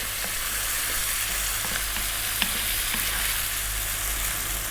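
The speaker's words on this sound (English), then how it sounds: "We're now going to add in that 1 cup of tomato chopped and teaspoon of cumin. And again, we're going to go for another 3 to 4 minutes." Green beans with chopped tomato and cumin fry in olive oil in a pan, a steady, close sizzle with faint occasional stirring clicks and no voices.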